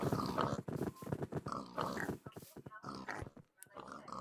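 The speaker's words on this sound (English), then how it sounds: "Sorry, pigs." Pigs grunting and snorting in a livestock setting, a run of close, uneven grunts with short pauses, and a voice talking over parts of it.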